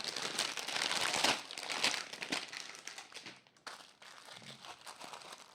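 Crinkly plastic wrapping rustles and crackles as a Newcraftday craft kit package, holding a 30 by 30 canvas, is pulled open: a dense, continuous crumpling close by that eases briefly near the end, with no talking.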